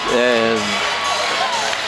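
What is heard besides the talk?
crowd cheering at a high school basketball game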